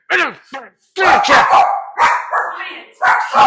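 Several pet dogs bark and yip excitedly in a home kitchen while a pot roast is being made, loud and close in repeated sharp bursts, with someone shouting over them.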